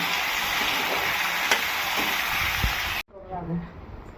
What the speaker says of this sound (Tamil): கொஞ்சம் பட்டால் லவங்கம் ஒரு மூணு பச்சை மிளகா கட் பண்ணி இப்போ வதக்கலாங்க